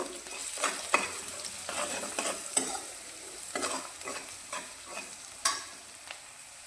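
Broken wheat roasting in a pan with salt and turmeric powder, giving a soft steady sizzle broken by repeated scrapes and taps of a spoon stirring through the grains.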